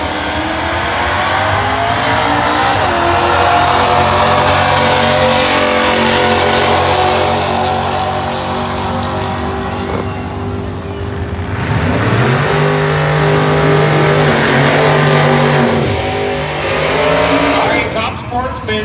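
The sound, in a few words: drag race car with small-block engine revving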